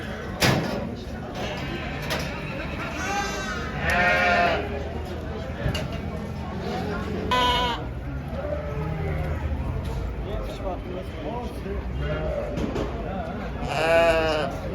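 Sheep bleat repeatedly at a livestock market in Kashgar, Xinjiang, several loud, wavering calls overlapping amid background chatter and occasional clatter, like a crowded pen.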